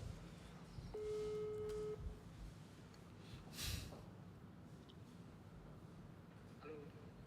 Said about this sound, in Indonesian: Nah ini telepon nih masih ringing nih